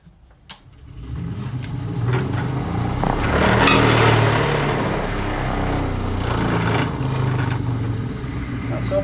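A wood lathe starts up and runs while turning an off-centred candlestick, a sharp click followed by a loud, steady mechanical drone with a persistent high whine and faint wobbling rumble, heard alone at close range.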